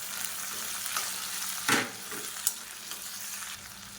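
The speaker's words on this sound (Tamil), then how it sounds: "இப்போ தக்காளி நல்லா வதங்கிட்டு இருக்கையிலே" Two medium tomatoes and small onions sauté in a pan, with a steady sizzle and a couple of distinct stirring scrapes close by.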